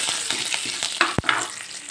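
Cumin, mustard seeds, dried red chillies and curry leaves sizzle in hot oil for a tempering, a crackling fry with small spattering pops and one sharp low thump midway.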